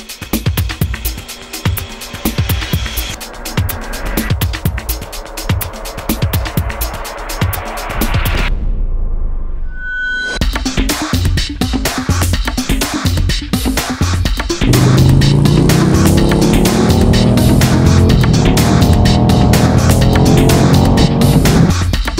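A 2021 Indian Challenger motorcycle cruises on the road with loud, close engine drone and wind noise, drops out briefly, then pulls hard with the engine note climbing as it accelerates.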